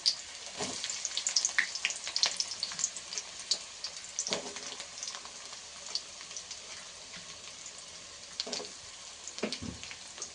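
Chopped onions fry in hot oil for egg bhurji, a steady soft sizzle broken by a few louder crackles and pan knocks, close and moderately quiet with no talk.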